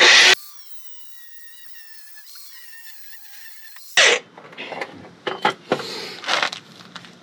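A grinder cuts through bolts during leaf spring replacement on a 2015 Toyota Hilux, whining at high pitch for a few seconds after a loud burst, then several short harsh scraping and cutting bursts follow.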